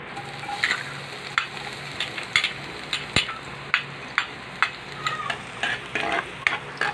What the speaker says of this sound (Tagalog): Mainit na rin po ang ating mantika. Gisa po natin ang bawang.